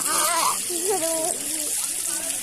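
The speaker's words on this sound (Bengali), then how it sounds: "একটা আশ্চর্যের বিষয় হচ্ছে গিয়ে আপনার জল বেরিয়ে আসছে" Natural spring water flows out of the ground at Tapovan ashram as a continuous gush and trickle, with someone speaking over the running water.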